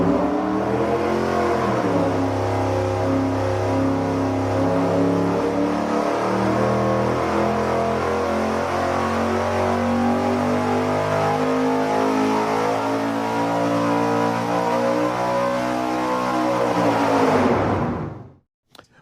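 A V8 engine with sequential fuel injection revs on a dyno, a loud, sustained mechanical roar that climbs through several gear-like steps, holds high for a long stretch, then cuts off abruptly at the end.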